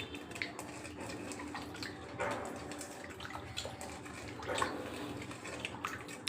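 Warm water poured in a small amount over tamarind set to soak for tomato rasam in a home kitchen, a steady close pouring and splashing sound with a few brief surges, alone without talk.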